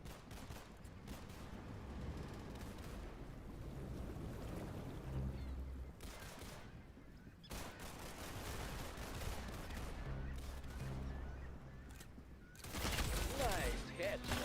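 Gunfire rattles in the video game Deep Rock Galactic, repeated bursts of shots over a steady low mechanical drone with game ambience, growing louder toward the end.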